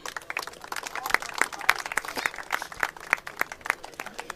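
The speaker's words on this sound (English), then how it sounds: "So big round of applause for all these four gentlemen here." An audience at a cricket final ceremony applauds four gentlemen with steady, moderately loud clapping from many hands that holds for several seconds without a break.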